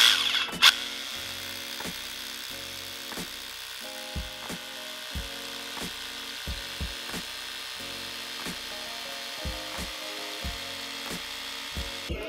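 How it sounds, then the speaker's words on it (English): A power drill bores anchor holes into the ground for an ATM installation, in short repeated bursts with pauses between them, a steady hum underneath throughout. "this is where I'm gonna drill the holes where the anchors need to be"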